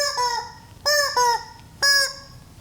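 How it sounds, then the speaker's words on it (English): A rubber shrilling chicken toy squeezed three times, each press giving a loud, honking, nasal squeal with a falling tail, close and clear without speech. "That is the shrilling chicken."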